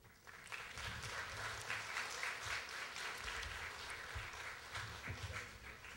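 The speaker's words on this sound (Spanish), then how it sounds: "Un aplauso para él." Audience at a Garifuna National Folkloric Ballet of Honduras performance applauds steadily, a fairly faint, continuous patter of clapping with a few louder individual claps and some low crowd noise underneath.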